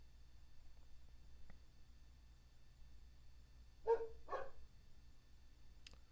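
A dog gives a pair of quick, loud barks close by against a quiet, hissy background, with a faint yip before and a click after.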